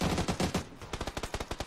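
Rapid gunshots from an SLR rifle in the video game PUBG, a close series of sharp cracks with a burst early and a quicker run of evenly spaced shots toward the end.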